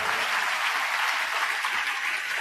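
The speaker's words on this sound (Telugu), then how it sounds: "కొట్టు చప్పట్లో." A congregation clapping during a church sermon, loud and even, a continuous wash of hand claps with no pause.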